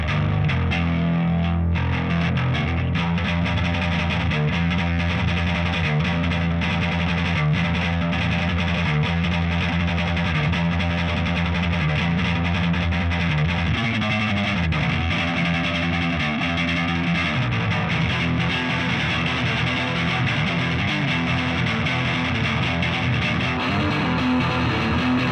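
Heavily distorted electric guitar through a Softube Murder One amp simulator, with Celestion speaker emulation and an effected, chorus-like tone, playing steadily and loudly throughout with dense harmonic texture.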